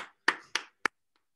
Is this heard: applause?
yes